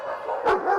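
Several dogs bark at a doggy daycare in Dublin, Ireland, with a sharp bark near the middle rising out of a steady background clamor of yips and barking.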